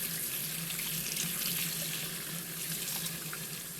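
A kitchen tap runs steadily while cucumbers and apples are washed under it, a continuous soft hiss of flowing water with no break throughout.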